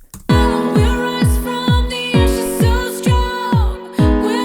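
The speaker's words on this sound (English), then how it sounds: "I'm going to go for a classic 909 house kick" A punchy 909 house kick drum thumps steadily on every beat over a sustained synth and vocal mix, loud and driving.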